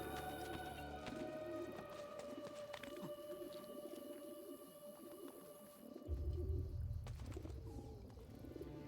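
Soft pigeon coos at a rooftop coop in Renaissance Italy in Assassin's Creed Brotherhood, low murmuring calls over steady ambient game hum, with a deeper rumble joining partway through.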